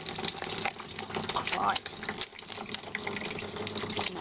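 A tap runs steadily as soap lather is rinsed off hands, a continuous close splashing wash of water with a brief word spoken over it.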